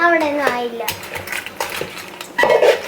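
A spoon scrapes and clinks against a pan while crab roast is stirred, in quick irregular strokes, with a voice speaking briefly at the start.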